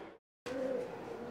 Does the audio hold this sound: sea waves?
no